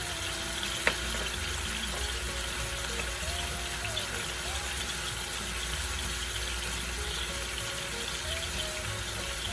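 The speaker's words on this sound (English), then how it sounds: "Do you hear it sizzling?" A chuck roast sears in a hot crock pot, giving a steady, close hiss of sizzling fat with a faint background hum and one brief clink near the start.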